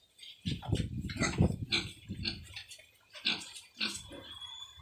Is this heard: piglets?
yes